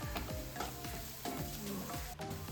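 Pasta being stirred with seasoning in a hot pan, a steady sizzle broken by quick scraping stir strokes, close and brief with no talk.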